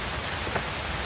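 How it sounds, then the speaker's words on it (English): Steady rain falls outdoors beside a BBQ grill where a beef Wellington is cooking, giving a continuous, even hiss over about a second with no talking. "Listen to that rain."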